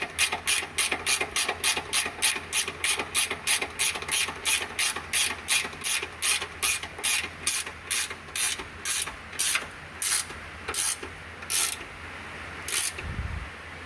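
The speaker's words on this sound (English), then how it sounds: "A 18mm ratchet wrench is going to be your best friend on these" An 18mm ratchet wrench snugs bumper nuts near the muffler while a metal bumper goes onto a 2022 Jeep Wrangler. Close, crisp bursts of rapid clicking repeat in a steady stroke rhythm, about two dozen times, slowing slightly toward the end.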